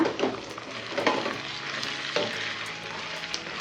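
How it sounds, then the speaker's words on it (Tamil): Onions and tomatoes sauté in a pan, giving a moderately loud, close sizzle with a few scraping stir strokes scattered through it and no speech. "தக்காளியை சேர்த்து நல்லா வதக்கி விட்டுட்டு"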